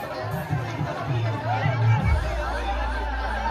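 Crowd chatter and a steady hubbub of voices at an outdoor Janmashtami matki-phod competition in Babubarhi, Madhubani, with a continuous low rumble beneath the babble.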